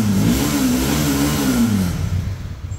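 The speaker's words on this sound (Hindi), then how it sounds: "ये काफ़ी पावरफुल इंजन था।" A powerful Honda motorcycle engine revs up and eases back in one smooth sweep, its loud, droning exhaust note rising and falling before it fades slightly at the end.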